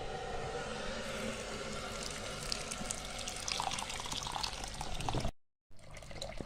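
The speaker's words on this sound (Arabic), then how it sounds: "انا حاطه ميه سخنه في الكتل" Hot water pours steadily into a bowl while soaking wheat for ashura, a continuous close splashing stream that briefly cuts out near the end before resuming.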